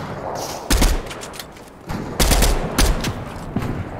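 Video game gunfire, several loud sharp shots and short bursts spaced unevenly over a low background of game ambience, near and punchy.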